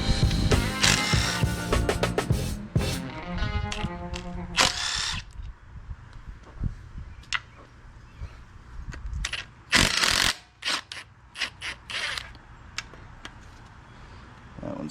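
A ratchet wrench removes 10 mm oil pan bolts from an LS4 engine, giving bursts of quick ratcheting clicks in short runs with pauses between. The clicks are close and moderately loud, with some handling noise.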